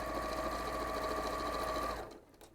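A sewing machine stitches side seams on a skirt in one steady, continuous run, loud and close, then stops near the end and leaves a brief quiet tail.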